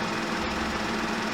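A car engine runs steadily nearby as a steady, even drone with a low rumble, while someone wires up a 1978 cafe scrambler motorcycle build, with no voices over it.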